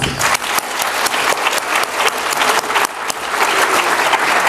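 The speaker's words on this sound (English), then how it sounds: "One more round of applause." Audience applause at a middle school promotion ceremony, dense sustained clapping from a large crowd, loud and close, swelling slightly and holding steady throughout.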